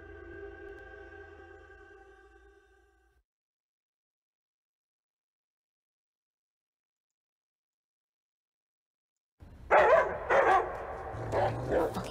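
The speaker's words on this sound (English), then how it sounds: "Fucking dogs." Dogs bark on an island: a sustained whining, howling tone fades out over about three seconds, then after a long silence a loud, close burst of rough barking erupts and continues.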